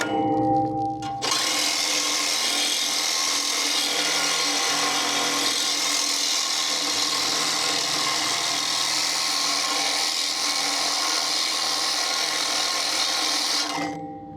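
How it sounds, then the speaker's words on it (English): A Sawzall fitted with a scraper blade strips old stickers off a GMC CCKW truck, a loud continuous high-pitched buzzing rasp that starts abruptly, holds steady for about thirteen seconds, then cuts off. "I found a scraper blade that mounts to the Sawzall."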